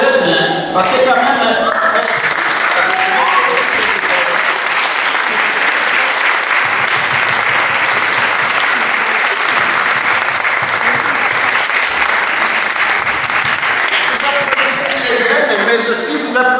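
A church congregation at a youth chaplaincy Mass bursts into long, loud applause for the young people, a thick continuous roar of clapping with talking at the start and end.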